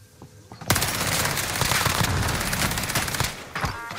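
Sustained rapid gunfire in a shooter video game, loud dense automatic bursts crackling almost continuously for several seconds, with brief voices underneath.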